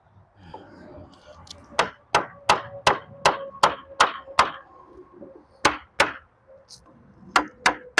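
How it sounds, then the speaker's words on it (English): A hammer strikes a seal on a first-generation Chevy S10 truck topper in a quick run of sharp, ringing blows, then a pause and a few more, close and loud with no talking. "Oh, let's get a hammer. Hammer time."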